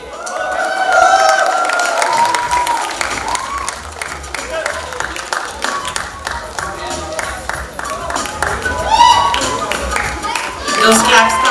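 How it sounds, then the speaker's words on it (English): An audience at a music academy's string music show claps and cheers in a sustained wave of applause, with a person speaking over it near the start and scattered claps thinning out toward the end. "Those claps coming."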